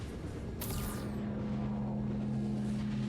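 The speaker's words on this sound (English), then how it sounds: "Oh, it's a tractor beam." A tractor beam on the Hull C cargo ship in Star Citizen switches on with a brief rising whoosh. It then settles into a steady, droning electronic hum that continues without talk.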